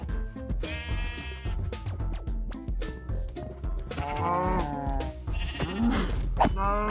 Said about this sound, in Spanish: Hay ovejas.